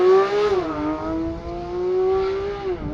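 A 2022 Porsche 911 GT3 engine revs hard off launch control. A loud, close, high-pitched wail holds and climbs across three seconds, with a brief dip near the end, and no talk over it.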